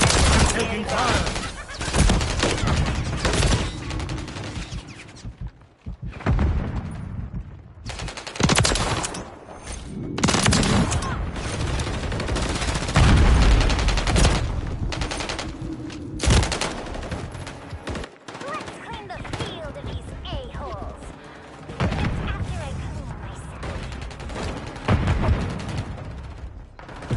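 Multiplayer gunfire in Call of Duty: Modern Warfare III on the Meat map, with dense, loud bursts of automatic weapons and single shots almost without pause, plus brief lulls and voice callouts mixed in.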